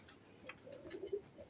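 Budapest racing pigeons flap their wings in short, soft bursts while being held in the hand, faint and close, with a few light coos and chirps around them.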